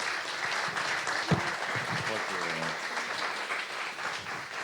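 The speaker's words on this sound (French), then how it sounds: "On peut les applaudir très fort" Audience applause rising from a room at a French-language business breakfast talk, a steady mid-level wash of clapping sustained throughout with a murmur of voices mixed in.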